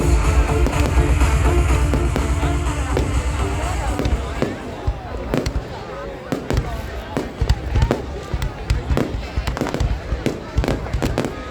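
New Year 2023 fireworks over Vinh Yen burst continuously in a dense, booming barrage with sharp crackling reports, heard at moderate distance over a background of crowd noise and voices.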